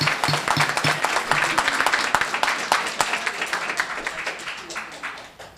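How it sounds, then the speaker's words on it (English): Steady applause from an audience at a town council meeting in Los Gatos, many hands clapping fairly loudly and then slowly fading, with some voices mixed in underneath. "I have previously requested that you not clap."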